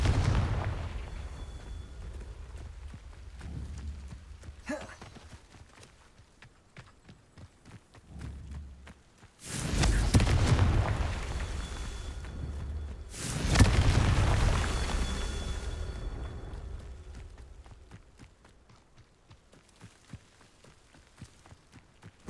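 Two heavy booming blasts from the Confringo explosion spell in Hogwarts Legacy, several seconds apart, each a loud burst with a rumbling tail over a low background of footsteps and movement.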